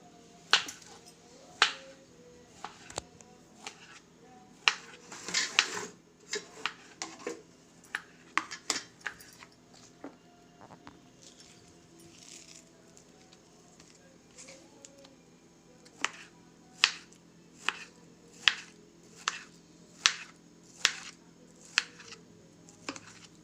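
A dragon fruit being cut with a knife, with a series of sharp, close clicks and taps of the blade on a board, sparse at first and then coming in a steady run, fairly quiet.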